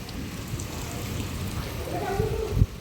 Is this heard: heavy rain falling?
yes